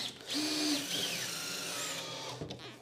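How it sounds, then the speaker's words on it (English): A power driver screws down into a rail on a rolling tool cabinet with a continuous whining whir that shifts in pitch as it bites. It is close but fairly quiet, with no talking. "I'm just screwing down."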